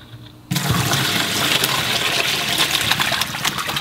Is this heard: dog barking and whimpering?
no